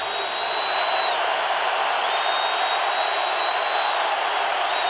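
A football stadium crowd at a Colts versus Patriots NFL game roars continuously and loudly at full volume, a dense sustained wall of noise with a whistle-like tone cutting through.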